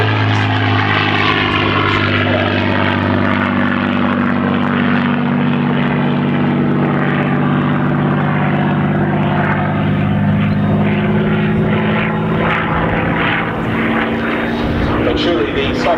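A Hispano Buchon Bf 109 propeller fighter makes a strafing pass at an airshow at Duxford, its piston engine roaring loud and sustained, with the pitch shifting as it sweeps by.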